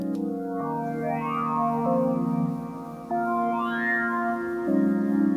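A sustained synthesizer chord drifts between harmonies, its tones smeared by a lush, shimmering reverb that lingers and blooms around each change.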